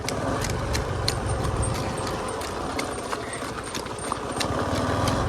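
A mare's hooves clip-clop in a steady, quick rhythm as she is ridden, with moderately near, crisp hoof strikes over continuous outdoor background noise.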